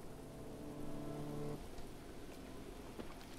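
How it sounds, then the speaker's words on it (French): Steady rain hisses in Zelda: Breath of the Wild while a player climbs a mountain. It is a constant, even wash of drops, with held game-music tones over it for the first second and a half. "On a tous connu quand tu grimpes une montagne et là il pleut."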